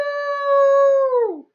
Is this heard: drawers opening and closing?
no